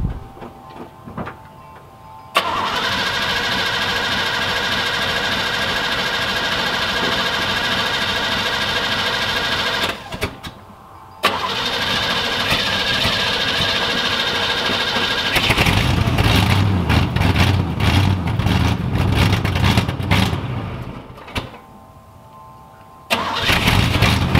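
An IROC-Z Camaro engine starts up and runs near the microphone, settling into a steady idle before revving louder as the car moves off, with brief cutoffs between takes.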